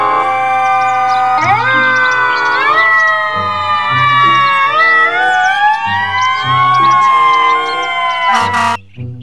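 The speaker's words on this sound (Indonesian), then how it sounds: "Mobil truk pemadam kebakaran." A toy fire truck's electronic siren plays loud and steady, stepping up through a looping wailing pattern of rising tones for about nine seconds before cutting off abruptly.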